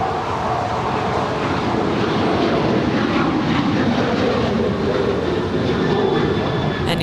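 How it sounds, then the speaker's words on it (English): Loud, steady roar of a ten-year-old United Boeing 737-900ER taking off from LAX, broadband jet rumble holding near and constant throughout with no voices. "And here's United 552 off to their hub at Denver. It's a 10-year-old 737-900ER."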